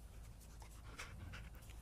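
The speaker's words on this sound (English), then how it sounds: "Here's my neighbor's dog." A neighbor's dog pants steadily close by over a constant low outdoor rumble, with quick rhythmic breaths and no talking.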